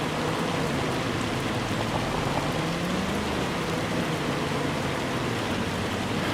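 A hail storm in Farming Simulator 25 gives a dense, steady rushing patter of ice hitting surfaces, constant and fairly loud throughout with no talk.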